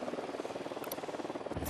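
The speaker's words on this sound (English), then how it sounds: "Deploying drone." Buzzing, fluttering hum from a small drone deployed in the video game Ghost Recon Wildlands, continuous and moderately loud with rapid pulsing, a brief high chirp near the end.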